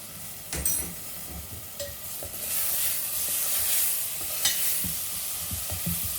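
Chopped green chilies and small tomatoes frying in a pan for Sindhi cauliflower and potato curry, with a continuous hissing sizzle and repeated spoon scrapes and clinks, close and without talk.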